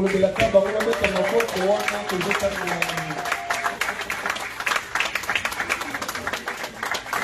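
A church congregation claps and cheers in praise while lawyers in the assembly stand. A few seconds of voices and tones give way to a steady wash of clapping that carries on to the end.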